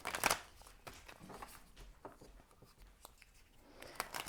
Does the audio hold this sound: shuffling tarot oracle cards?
yes